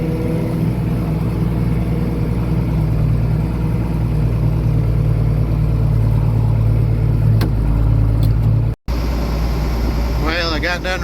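A John Deere 4430 tractor drones steadily while raking thin hay into a single windrow, a loud, constant low engine rumble with cab noise, briefly cutting out once near the end.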